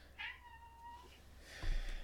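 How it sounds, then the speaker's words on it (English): A pet cat lets out a single close, drawn-out meow that bends downward, followed by a soft rustle and a low thump at the end. "my cat needs me right now for some reason"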